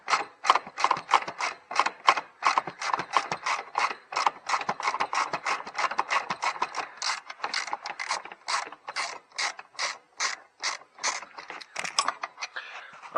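A hand ratchet with an extension works a stubborn Honda Odyssey second-row seat bolt, giving a fast, even run of close, crisp clicking strokes that continues for over ten seconds.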